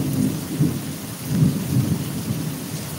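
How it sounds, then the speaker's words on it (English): Thunder rumbles low and heavy under steady rain during Tropical Storm Grace in Jamaica, a continuous outdoor wash of downpour with repeated deep rolls, no voices. "Lightning and thunder, man."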